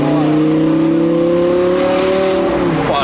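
An Audi R8 V10 engine revs hard from inside the car, a loud, continuous droning roar held at a high pitch that climbs and then eases off near the end.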